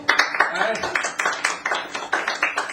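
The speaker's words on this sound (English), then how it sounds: "A light applause there." Brief, sparse hand clapping from a small comedy club audience, a light smattering of applause with some murmuring voices.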